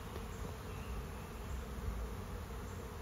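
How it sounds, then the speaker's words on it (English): A swarm of bees in an apiary buzzes as a dense, steady drone, continuous and fairly close, with no voices. "that is a swarm of bees"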